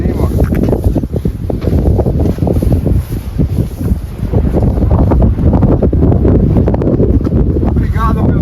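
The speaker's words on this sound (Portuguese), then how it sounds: "Olha, rapaz, o vento tem aqui em cima." Strong mountain-top wind in Vale do Pati buffets the microphone in a loud, continuous low roar with gusty surges, while people talk over it.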